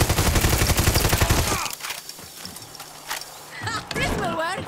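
Rapid automatic gunfire in the shooter game Far Cry 6 rattles loudly for about a second and a half, then gives way to quieter battle noise and voices talking.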